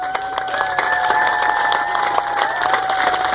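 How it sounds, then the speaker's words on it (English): A crowd at a community event claps and cheers for two soldiers, loud and close, with whoops and high sustained voices riding over a continuous bed of applause. "let's just give one more round of applause to Sergeant Gall and Brian"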